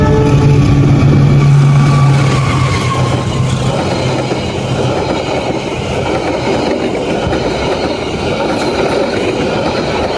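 An economy-class Pasundan passenger train rolls loudly along the rails, a heavy rumbling clatter with a steady rhythm of wheels, close by and continuous.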